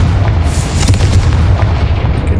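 A heavy, sustained booming blast from the Confringo fire spell in Hogwarts Legacy, loud and dense with a low rumble that holds steady for a couple of seconds, no talking over it.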